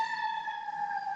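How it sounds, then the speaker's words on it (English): An ambulance siren outside in a downtown area gives a steady, sustained wail that holds at an even level, heard alone without talk. "I heard an ambulance out there."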